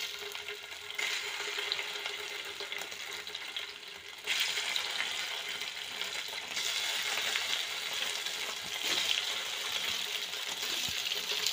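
Paneer cubes frying in a mix of oil and ghee, a steady close sizzle and crackle that swells louder partway through, with no voices over it.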